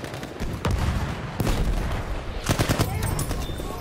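Bursts of BAR automatic rifle fire in Battlefield 1, with rapid close-range volleys opening, repeating mid-clip and returning near the end over a continuous loud battlefield din.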